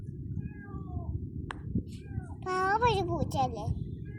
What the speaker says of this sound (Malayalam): കണ്ടോ വരുന്ന വരവ് പാവം പൂച്ച.